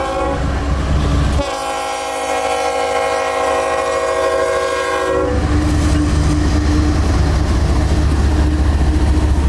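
A loud train horn blasts for several seconds over rumbling rail noise, then a CSX freight train on the Palmetto Subdivision clatters steadily past with rhythmic wheel clicks.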